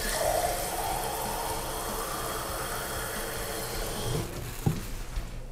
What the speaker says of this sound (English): we're gonna pop on a dual spray faucet aerator.